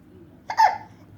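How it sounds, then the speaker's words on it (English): A baby's single hiccup, a short sharp close burst in the middle of a quiet stretch, with no talking. "Hiccups."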